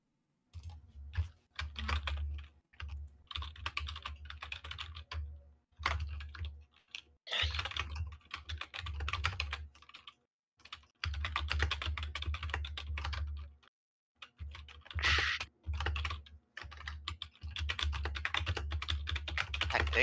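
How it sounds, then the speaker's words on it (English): Someone types hard on a computer keyboard, bursts of fast, heavy clacking keystrokes with brief pauses, fairly close and continuing throughout. "sounds like somebody beating the hell out of that keyboard"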